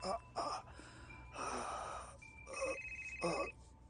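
Electronic phone tones chirping intermittently alongside breathy gasps and sighs, with a sustained ringing beep near the end.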